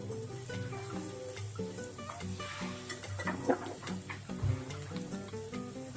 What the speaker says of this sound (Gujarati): એ બધાને આપણે સરખી રીતે હવે પહેલા મિક્સ કરી લેશું